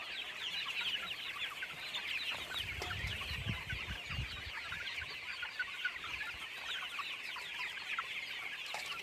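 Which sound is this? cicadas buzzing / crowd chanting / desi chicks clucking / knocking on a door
desi chicks clucking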